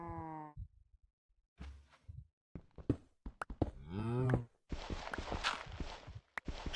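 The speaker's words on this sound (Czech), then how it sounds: "Už slyším kravičky." Cows moo in Minecraft, with a drawn-out low call heard amid blocky footstep and movement sounds, alternating with short game noises and quiet gaps.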